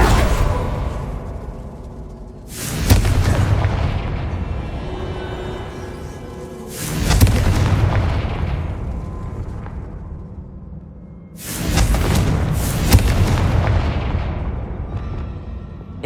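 Three big blasts from the Confringo fire spell in Hogwarts Legacy, spaced several seconds apart, each a loud broadband bang trailing into rumbling debris and crackle, with no voices.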